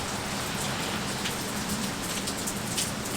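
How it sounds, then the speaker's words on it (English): Steady, dense rainfall pattering on surfaces, a continuous even hiss with no voices and no thunder. "Let me show you some of my rain footage"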